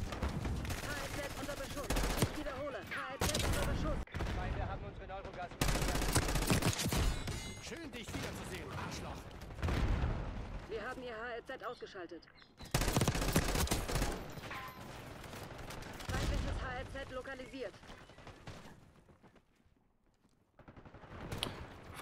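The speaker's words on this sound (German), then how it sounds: "Schnellfeuer, mega gut. Aber dafür ist aber ganz schnell mein Magazin leer." Rapid automatic gunfire in Call of Duty Black Ops 6, with dense bursts of loud shots and brief pauses between them, mixed with game effects over roughly twenty seconds.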